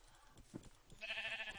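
Sheep in the video game Minecraft (version 1.7.10), part of a small flock, give a clear, fairly loud bleat in the second half, with softer game noises before it.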